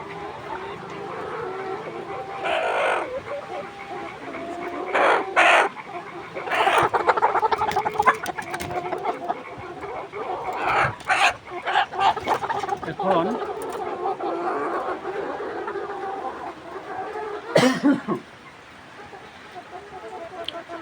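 Layer hens about 123 days old cluck on a poultry farm, a steady, busy chorus of overlapping calls with sharper squawks rising now and then, while a person talks intermittently over the flock.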